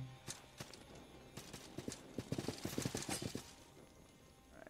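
Horse hooves from the video game Salt & Sanctuary clop in a quick, irregular rhythm, faint and somewhat distant, over a low background.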